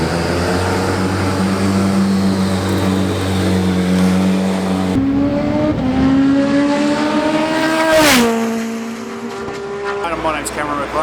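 A Hammerhead time attack race car drives at Queensland Raceway, its engine droning loud and close with rising and falling pitch through gear changes, then dropping sharply after a brief surge near the end.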